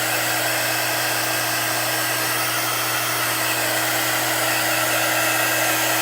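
A hair dryer blows steadily to dry chalk paste on a pumpkin sign, a close, loud, continuous whir with a constant hum throughout and no talking.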